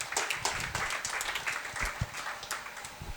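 A seated audience at a ceremony breaks into a short, brisk round of applause, an even patter of many hands that stays fairly close and steady for a few seconds.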